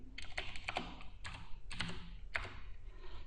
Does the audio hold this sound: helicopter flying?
no